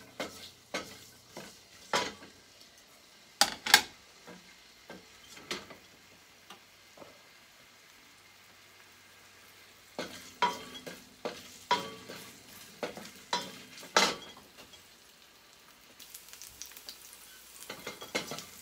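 Ginger frying in a pan for tinolang manok, heard as a soft, steady sizzle with frequent sharp stirring and scraping clicks close by. The clicks come in irregular bursts separated by quieter stretches, and no one speaks.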